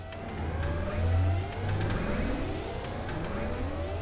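Scrubbers being constructed in the Surviving Mars video game, a rising mechanical whir with a low steady hum and faint clicks, moderately quiet and continuous.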